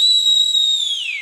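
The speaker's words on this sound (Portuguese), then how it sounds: "esse assobio que as antas machos usam para atrair as fêmeas." A male tapir whistles to attract females: a single loud, pure high whistle held steadily for about a second, then sliding downward in pitch at the end, alone.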